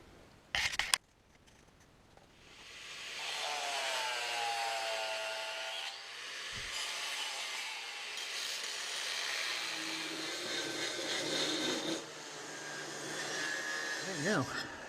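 A power tool trims a metal transmission mount plate for an Audi A2 replica, a sustained whining grind that wavers in pitch for about ten seconds, preceded by a sharp clack, with no talk over it.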